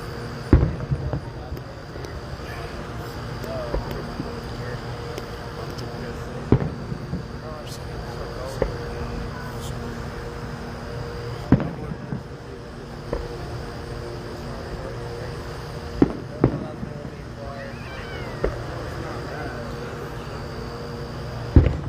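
Fireworks over Leitchfield, Kentucky go off as scattered sharp bangs and pops, some distant and some nearer, spaced irregularly across a steady outdoor background while people talk.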